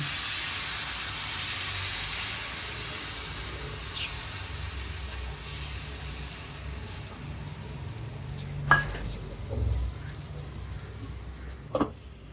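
Ragi ghavan batter sizzles on a hot tawa in a soft, steady hiss that lasts throughout, with a few faint clinks and knocks near the end.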